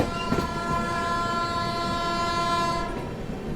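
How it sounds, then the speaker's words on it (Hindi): The Tamil Nadu Superfast Express sounds a sustained, loud multi-tone train horn for about three seconds over the rumble of the moving train, then cuts off abruptly near the end. "हॉन्कर सुनो"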